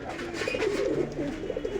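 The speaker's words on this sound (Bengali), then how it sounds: "কালশিরা নর কবুতরগুলো মার্শাল্লাহ খুবই সুন্দর কবুতর" A male Kalshira pigeon coos nearby at a bird market, a soft, rolling low-pitched call repeated over a faint background.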